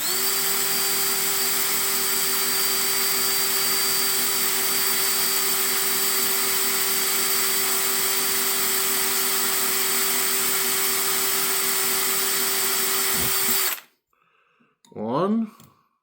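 Drill boring holes into an engine piston, a steady loud motor whir that runs unbroken for about thirteen seconds and then cuts off abruptly, followed by brief faint talk near the end.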